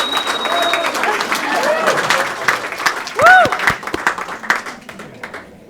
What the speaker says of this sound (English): I want a huge round of applause for Chris George.